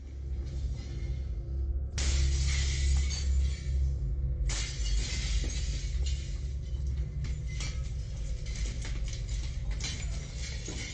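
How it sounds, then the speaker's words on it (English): Window glass smashed with firewood by an intruder breaking into a house, a loud, harsh shattering that bursts in abruptly and then crackles and crunches on and on with sharp fresh breaks. It sounds close, with no voices. "he broke the glass with firewood and crawled through the window and into the house"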